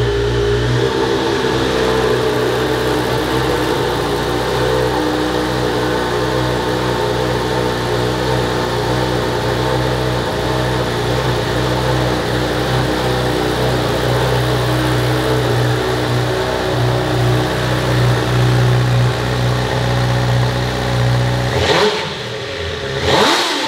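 A 2022 Honda CB1000R motorcycle engine runs steadily for over twenty seconds, loud and close, with a sustained rumble and light throttle swells before it cuts off near the end.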